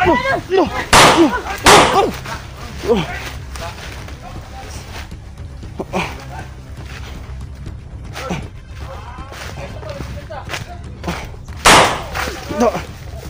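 Several sharp video game gunshots crack out in bursts, loud and close, with quieter shots scattered between and voices talking over the action.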